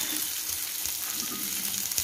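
Peanuts and short chilies fry in hot oil in a pan, a steady close crackling sizzle with light stirring scrapes throughout, and no voices.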